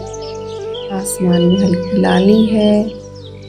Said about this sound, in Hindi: पंछी चहचहा रहे हैं,